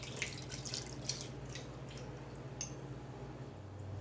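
Buttermilk pours from a carton into a bowl while a chocolate cake is prepared for a cast iron cake pan, giving a soft, steady liquid trickle with faint wet splashes over a low background hum.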